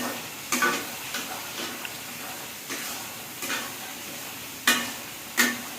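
Meat for biryani sizzles softly in a pan under a faint hiss, broken by about six sharp scrapes and clacks of a spoon stirring against the metal at uneven intervals, with no voices.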